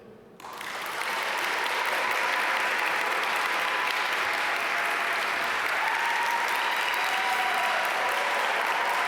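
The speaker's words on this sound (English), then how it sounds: "So much for the hold your applause thing" Sustained applause fills the hall at the Duke MBA graduation ceremony in 2021, swelling quickly from a quiet start into a broad, even roar of many hands clapping that carries on without a break.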